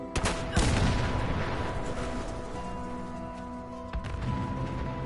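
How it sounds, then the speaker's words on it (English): Explosions from blowing up cars at White Springs in the video game Fallout 76: a sharp blast, then a long rumbling roar with a second boom near the end, loud and close. "Fallout 76 has some really nice explosions."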